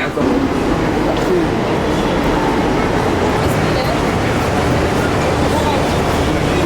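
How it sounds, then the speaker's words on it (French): Loud, steady rumble of a metro train at a station in India, filling the whole clip with continuous rolling noise and a voice briefly speaking over it. "We're in the metro station."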